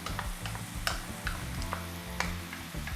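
Onions go into a hot pan with steak bites and mushrooms, giving a quiet, close sizzle broken by small ticks and scrapes of stirring.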